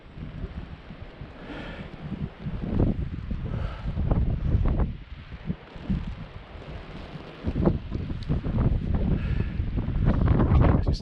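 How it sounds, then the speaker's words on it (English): Gusty wind buffets the microphone at a kite flying field, a low rumbling roar that swells and drops in uneven gusts throughout, loud and close with no talking. "A little gusty."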